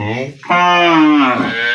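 A dairy cow, Sahiwal-type milking cow at a sale, lets out one loud, close moo that rises and holds before trailing off.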